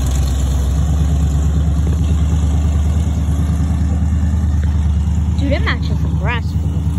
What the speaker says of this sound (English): Oh, I hear that supercharger. Hemi, woo.